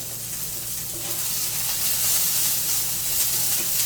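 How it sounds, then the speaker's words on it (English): Vegetables browning in a pan for a tofu scramble give a steady, close sizzle and frying hiss that holds evenly throughout with no talking. "So you can see here that I'm just browning this now."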